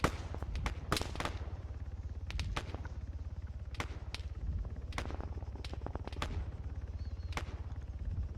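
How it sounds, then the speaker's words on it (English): Mortar shots in a military video game fire as a string of sharp, loud cracking reports at irregular intervals over a steady low engine-like drone, each shot a brief, punchy burst with a short tail. "And that mortar firing more shots again."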